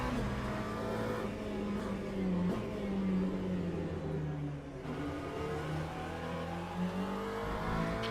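An LMP2 prototype race car in the Le Mans Ultimate sim racing game drones and revs steadily, engine pitch rising and falling through gear changes across the lap, with no talk over it.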